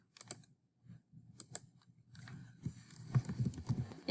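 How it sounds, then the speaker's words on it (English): Scattered keystrokes on a computer keyboard as a number is entered, a few isolated clicks at first, then a denser, louder run of typing near the end, fairly quiet overall. "I'm going to type that one in so it's a bit longer."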